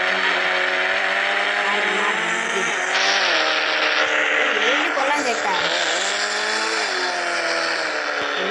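A Nissan GT-R driven in a video game, its steady engine drone rising and falling with gear changes and occasional squeals, loud and continuous under a talking voice.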